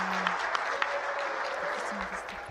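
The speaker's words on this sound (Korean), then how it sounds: "절로 박수를 치게 되네요" Sustained applause from a crowd after the presidential election vote count wraps up at a counting venue in Cheongju, a steady patter of clapping with voices talking over it.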